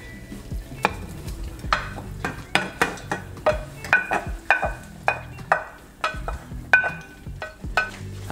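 A spoon stirring beef through a thick creamy garlic pepper sauce in a pan: steady rhythmic scrapes and knocks against the pan roughly every half second over a soft sizzle, no talking.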